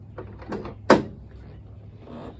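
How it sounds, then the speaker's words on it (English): A Ford Super Duty F250/F350 truck door latch being tested after cable replacement, a few light rattles as the door is pulled and wiggled, then one sharp metallic clack, followed by soft handling noise. "Make sure the upper latch and the lower latch is latching. So you pull on the door and wiggle it"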